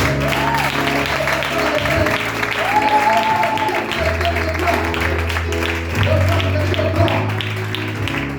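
A church congregation at a Sunday service applauds and cheers over sustained music with singing, the clapping continuous and dense throughout while the music carries on underneath.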